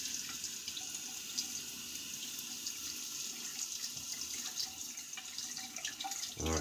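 Water runs steadily from a tap into a sink for a rinse after shaving, a close, constant splashing hiss with a small knock near the end and no talking.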